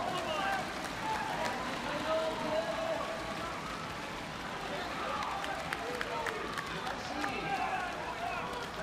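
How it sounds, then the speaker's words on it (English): A crowd applauds during a Canada versus China men's volleyball Olympic qualification match, giving a dense, steady patter of clapping like rain that is fairly quiet and sits under continuous commentator talk. "listen to this crowd applauding the effort of both squads"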